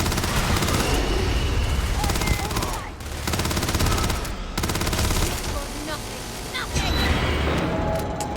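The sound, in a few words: gunfire in the video game Starfield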